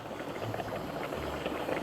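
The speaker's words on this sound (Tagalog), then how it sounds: "Kumukulo yung tubig." Water boiling vigorously in a steaming sulfur hot spring, a dense, continuous bubbling and churning roar at steady volume, heard up close with no talking.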